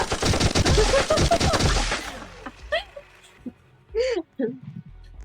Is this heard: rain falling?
no